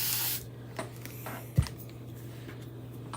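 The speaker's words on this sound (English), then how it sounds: "So what I like to do is I like to spray it and then kind of rub around all the edges" Water sprayed from a spray bottle onto a Chalk Couture screen: a short hiss of spray at the start, followed by faint ticks and light rubbing sounds.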